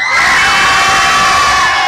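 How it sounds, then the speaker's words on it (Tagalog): Fiesta crowd in a barangay in Lopez, Quezon, shouting together on cue, a loud, sustained mass of voices close by, rising and holding for about two seconds with no talk over it. "Sige, sabay-sabay tayo, sigawan!"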